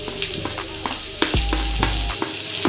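Red chili and garam masala being stirred in a frying pan for a dried-fish chutney, with a steady close sizzle of hot oil and repeated scraping strokes of the spoon, no talk.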